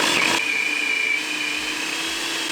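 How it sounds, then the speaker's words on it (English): A food processor or Vitamix blender runs steadily and loudly close by, a continuous high motor whine with a brief harsher burst at the start, no talking. "Food processor or Vitamix"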